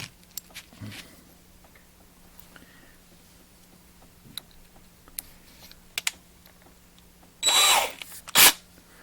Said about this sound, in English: Let's go over and drill this guy out here